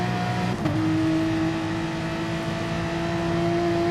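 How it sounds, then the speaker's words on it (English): A Porsche race car engine in a racing game on the St Croix circuit holds a loud, steady drone, then briefly drops in pitch with a quick upshift just after half a second before settling into a smooth, constant tone. "So you can hear him just short shifting a little bit"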